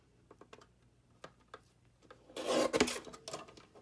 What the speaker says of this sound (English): I'm going to try to trim it the same on the top and the bottom.